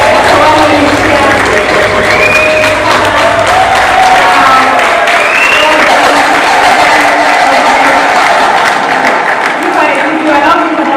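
A large audience at a university event cheers and applauds loudly and without a break, a dense wash of clapping and shouting voices, with speech mixed into the crowd noise.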